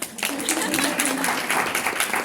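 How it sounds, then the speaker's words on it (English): An audience at a small business marketing event breaks into brief, lively clapping, a dense wash of hands that stays close and even for a couple of seconds. "We can clap."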